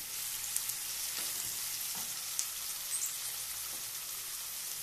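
Peas and mixed vegetables for masala oats sizzle and crackle continuously in a hot pan, a dense, even hiss with scattered small pops and no voices.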